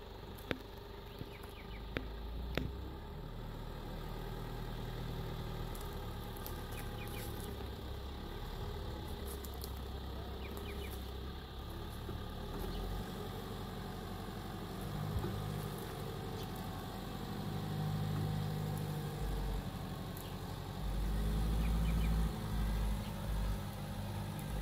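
A bogged 4WD's engine drones and revs with the wheels spinning in mud at a lake campsite, a steady low rumble that swells louder toward the end, with no talk over it.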